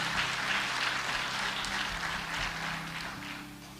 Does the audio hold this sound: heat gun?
no